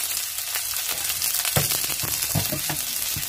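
Chopped onion and green chillies fry in a pan for a fenugreek-leaf stir-fry. The sizzle is a steady, close hiss, broken by soft scraping stir strokes.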